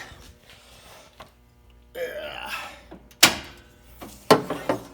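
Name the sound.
opening the hood of a 1996-2000 Honda CR-V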